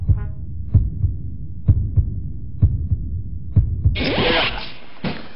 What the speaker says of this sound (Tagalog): Ang lakas po ng tibok ng puso ko!